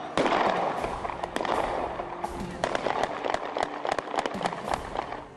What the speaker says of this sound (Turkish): Sonra da mahalleyi inleten silah sesleri duyuldu.